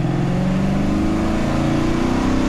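A warmed-up Plymouth Superbird's V8 engine revs loud and close, a continuous deep rumble that climbs in pitch throughout, with no voices over it.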